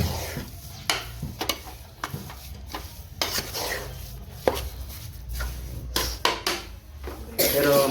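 A spatula scrapes and knocks irregularly against a pan while stirring a thick sukhadi mixture of jaggery and dry fruits, with a soft sizzle underneath and a faint voice at times.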